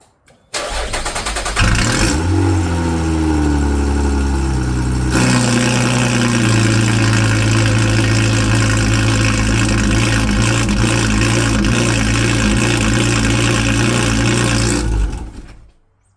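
A Lotus Evora S with a Capristo valved exhaust cranks, fires and blips loudly, then settles into a steady, rowdy idle close by before cutting off.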